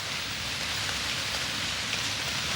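Steady, dense rainfall patters down in a rainforest, a continuous even hiss of drops on leaves and surfaces with no voices.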